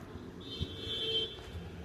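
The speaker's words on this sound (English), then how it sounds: "There's a beep." A single steady electronic beep sounds for about a second at moderate level over low background rumble, with no talk.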